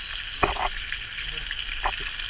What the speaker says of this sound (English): now I'm frying the chicken